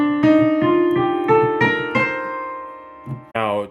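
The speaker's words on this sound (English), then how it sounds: "And then this is the C Dorian scale." A C Dorian scale played on a pitched instrument, a run of ringing notes with clear onsets, close and fairly loud, fading out before a short burst of voice at the end.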